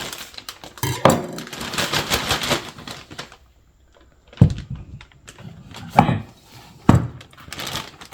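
Onions diced in a homemade wooden vegetable chopper: a close, loud run of rapid clattering blade strikes, a pause, then a few separate heavy chops.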